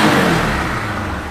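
A second-hand motorcycle at a used-bike showroom near Kolkata revs its engine in one steady, loud burst lasting just over a second, with no voices over it.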